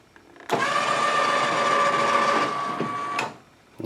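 The electric lift on a Cub Cadet garden tractor lowers the mower deck, giving a close, steady whirring motor hum for nearly three seconds that begins and ends abruptly, with a faint clunk after it stops.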